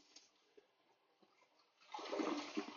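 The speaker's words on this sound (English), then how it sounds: "Let's give it a flush." A hotel room toilet at the Marriott Orlando Airport Lakeside flushes, a rising rush of water that surges loud near the end after quiet room tone with a few faint knocks.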